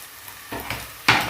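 Onions and green chillies frying in a pan give a continuous hiss broken by three sharp metallic stirring scrapes, each louder than the last, close by.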